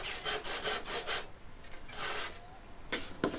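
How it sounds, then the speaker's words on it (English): A hand saw cuts a careful 45-degree mitre in wood for a shooting board jig. Several close, rasping back-and-forth strokes come in a steady rhythm with a short pause in between. "I really took my time sawing this to try and get it as straight as possible"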